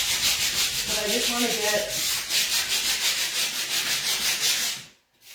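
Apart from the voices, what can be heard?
sanding paint with a Surf Prep sanding pad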